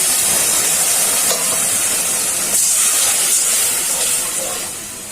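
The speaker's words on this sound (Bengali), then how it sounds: "মশলাটা কষানো হয়ে গেছে, হালকা একটু জল দিয়ে দিচ্ছি।" Water added to sizzling fried spice masala for a beef rezala, a loud rushing hiss of steam and sizzle that stays strong and slowly eases toward the end, with no talking.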